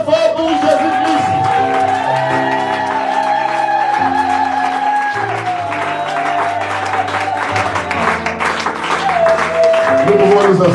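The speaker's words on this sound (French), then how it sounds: "Acclamons très fort pour Jésus-Christ." A church congregation cheers and applauds for Jesus Christ, a loud sustained crowd roar with clapping, shouts and whoops mixed with music that rises again toward the end.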